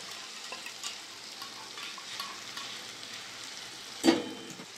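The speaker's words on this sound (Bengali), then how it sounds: "মশলার সাথে দইটা মিশিয়ে নেব।" Yogurt mixed into frying masala for chicken curry, a soft continuous sizzle with light stirring and one sharper clatter of the spoon toward the end.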